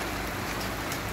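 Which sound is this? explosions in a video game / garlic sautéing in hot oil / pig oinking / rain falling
rain falling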